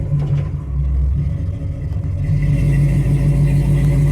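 An old 1955 car engine runs steadily while the car drives on a freshly oiled road, a loud, continuous low rumble that holds throughout with no voices over it.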